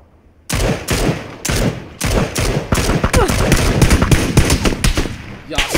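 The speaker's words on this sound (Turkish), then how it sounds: "bir SKS ile vurdu kanka, öldü" SKS rifle fire in PUBG: sharp gunshots crack in bursts and single shots, loud and close, with a dense rapid exchange of fire in the second half and a few thumps.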